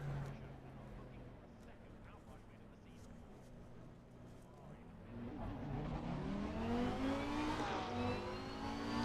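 Lamborghini GT race car in the Assetto Corsa Competizione racing game, engine revving up with a rising, climbing tone after a steadier idle-like drone, fairly faint overall.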